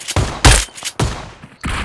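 Short bursts of gunfire in a shooting video game, a handful of loud, close volleys in quick succession with brief pauses between them.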